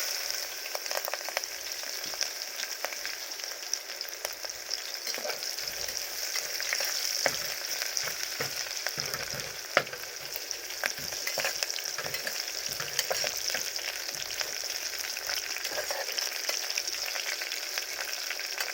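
Cumin seeds sizzle and crackle in hot oil in a home kitchen pan for goat mutton, a steady close-up fry with scattered pops and stirring.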